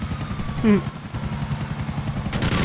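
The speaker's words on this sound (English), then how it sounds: "It's an Annihilator helicopter." Annihilator helicopter in GTA IV, a steady rotor thump and engine drone running close and loud through the whole stretch, with a brief higher tone rising partway through.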